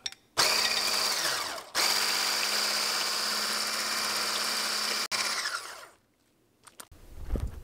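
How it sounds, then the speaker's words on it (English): An electric hand mixer whirs loudly and steadily while whipping cream to stiff peaks for tiramisu, briefly cutting out and restarting, then stopping, followed by faint clatter; no talking. "Grabbing this hand whisk and going to whisk it until it's medium to stiff peaks"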